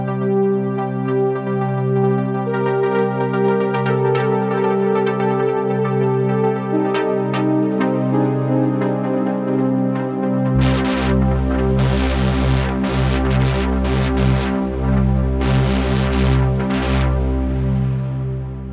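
Polysynth chords played with harder key strikes, its tone modulated by a sampler in textures mode: sustained layered harmonic notes that shift midway into brighter, busier swelling chords with rhythmic bursts, purely instrumental.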